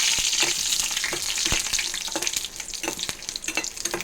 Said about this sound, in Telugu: ఇక దాంట్లో కాంబినేషను వడియాలు వేపుతున్నాను